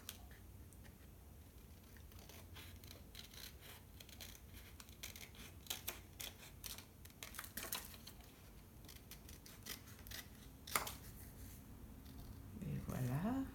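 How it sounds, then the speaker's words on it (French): Scissors trim closely around a cut-out paper shape in a long run of small, quick snips and rustles, close and moderately quiet, with a voice at times. "Vous découpez le plus proche que vous pouvez."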